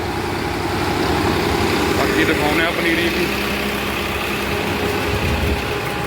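A generator engine runs on a farm while paddy seedlings are watered during a power cut from broken poles, a steady close engine drone throughout with someone talking over it.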